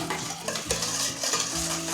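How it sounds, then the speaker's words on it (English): A whisk beats pudding mix into milk in a bowl, producing quick rhythmic swishing and light clinks against the sides, close and continuous. "So mix for about 2 minutes. I'm using the whisk"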